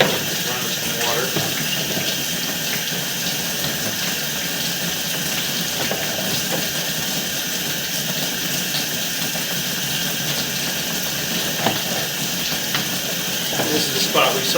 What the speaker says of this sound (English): So run some water.